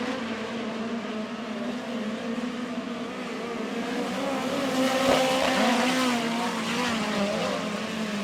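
Midget race cars roar around Lake Ozark Speedway in a POWRi National Midget League race, engines droning loudly and continuously as the pack passes and swells slightly toward the end.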